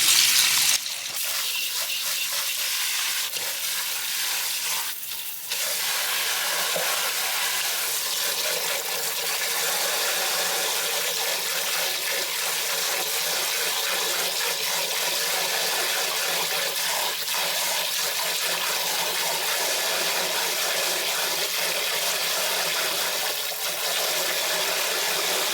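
Cold tap water pours steadily onto sprouts in a kitchen, a continuous close hissing rush that runs unbroken for the whole stretch with no talking.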